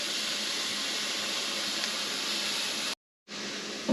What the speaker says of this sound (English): these need to saute for about 7 minutes till they're soft